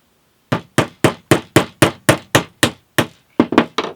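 Nails hammered into quarter sawn wood while preparing a bridge plate for an acoustic guitar build, about a dozen sharp, close hammer blows in a steady rhythm, with a short pause before a quick final cluster.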